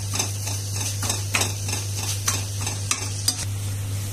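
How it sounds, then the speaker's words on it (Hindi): A mixture for lavang lata being stirred and roasted in a pan, close-up, with repeated spoon scrapes and clinks against the metal over a steady low hum and light sizzle. "इसे अच्छे से चलाते हुए 3 से 4 मिनट तक इसे भून देंगे।"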